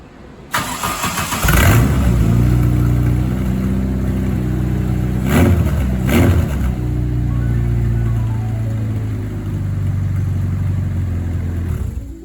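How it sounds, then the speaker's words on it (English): A Volkswagen Beetle engine cranks and catches, then settles into a loud, steady idle with two sharp revs partway through. The motor runs close by with no talking. "The car started, which I'm extremely pleased with."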